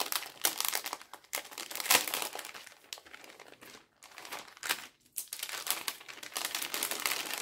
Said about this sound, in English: Then we have this pretty packaging. Oh, sorry for the crinkling,